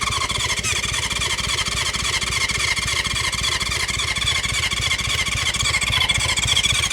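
A 1970s four-cylinder motorcycle turns over on its electric starter in a fast, continuous rhythmic churn with a whining tone, loud and close, straining without catching for the whole stretch.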